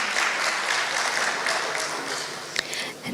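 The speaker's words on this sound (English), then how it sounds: "Let's hear a round of applause for Mr." A continuous wash of audience applause at a dive technology summit, a moderate crowd clapping steadily at middling distance with a brief sharper clap standing out near the end.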